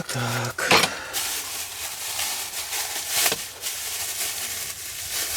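A frying pan handled on a wood stove at an autumn tent campsite: metallic clanks and knocks of cookware, one sharp clatter near the start and scattered scrapes after, with people talking nearby.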